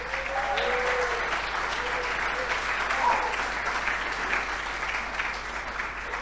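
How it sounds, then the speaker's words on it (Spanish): A church congregation gives sustained, even applause for a speaker named Marcos Ugarte, a dense wash of many hands clapping at moderate distance with no talking over it. "Le vamos a dar un aplauso a Marcos."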